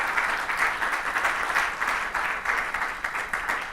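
Church congregation applauding during a testimony service, a moderate, even patter of hand claps pulsing slightly in rhythm, continuous and fairly close, without talk over it.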